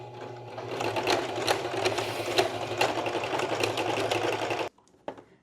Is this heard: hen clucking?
no